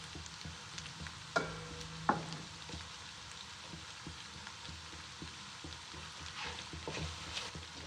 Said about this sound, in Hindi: मसालों को थोड़ा सा भूनेंगे।